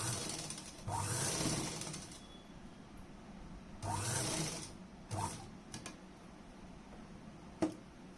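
A sewing machine stitches a blouse lining in two loud, steady runs of rapid needle chatter, with short quieter gaps and small handling clicks between the bursts.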